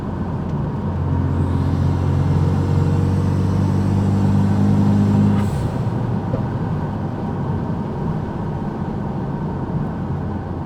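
A Renault Megane RS RB8 hot hatchback driven flat out, a loud, steady engine roar with strong low harmonics that climbs and holds for about five seconds, then drops back to a broad, constant road and wind rush.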